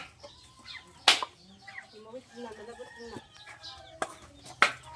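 Chickens clucking and calling at an early-morning rural home, with brief loud wing flaps or bursts near the start and end, the clucks repeating irregularly at moderate distance.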